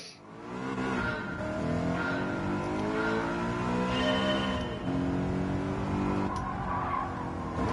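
A BMW M3 with a V8 engine revs hard in the Gran Turismo 7 racing game, a loud sustained engine howl rising and falling through gear changes, with tire squeal mixed in.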